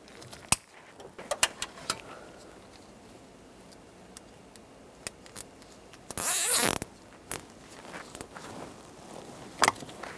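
Excess tails of plastic wire ties get snipped during a turn signal combination lever replacement on a 1999-2006 Chevrolet Silverado 1500, a scattering of small sharp clicks and snips with one longer ratcheting rasp midway, close and quiet, no talking.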